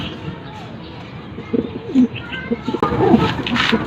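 Pigeons coo in soft, low bursts close by, with faint fluttering and rustling over a quiet background.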